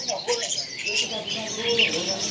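Budgerigar parakeets chirp and twitter in a bird shop or aviary, bright scattered calls at moderate level continuing throughout.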